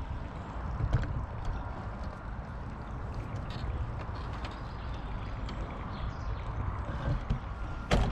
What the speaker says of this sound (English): This is a more aggressive machine because there are blades which spin round.